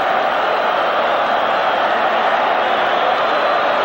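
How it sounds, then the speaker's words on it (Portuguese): Flamengo supporters chanting at Serra Dourada stadium during the 1981 Libertadores final against Atlético MG, a steady, loud roar of massed voices throughout. "Torcida gritando Mengo"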